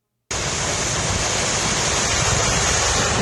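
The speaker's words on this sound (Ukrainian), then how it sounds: "Поблизу однієї з багатоповерхівок прорвало трубу." Water gushing from a burst water main near an apartment block in Borshchahivka, Kyiv, in freezing weather: a loud, steady roaring rush that starts abruptly and continues unbroken.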